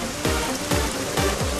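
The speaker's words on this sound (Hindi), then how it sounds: "शुरू हो गई बारिश" Rain falls steadily, a dense hiss of drops striking surfaces, loud and close throughout.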